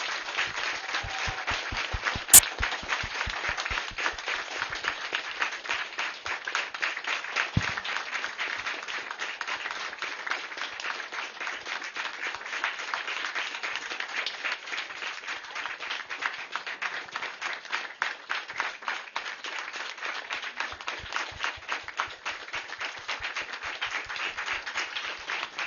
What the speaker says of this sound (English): Keep the claps coming on